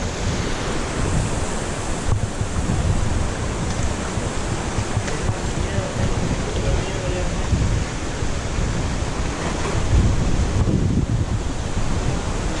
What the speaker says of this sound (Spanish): Ahí está la cascada, mira.